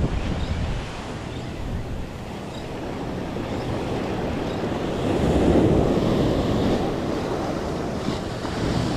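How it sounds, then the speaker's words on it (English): Surf breaks continuously along a Florida beach, a dense wash of rushing waves that swells louder midway, mixed with gusty wind buffeting the microphone. "Try not to get murked by these waves."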